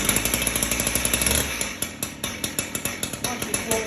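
A STIHL TS410 petrol disc cutter's two-stroke engine runs loudly, first at a dense high idle, then settling into a rapid, even pulsing chug.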